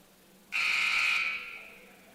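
A basketball game buzzer in a high school gym sounds one long, loud, harsh blast lasting about a second and a half before tapering off, over quiet room noise.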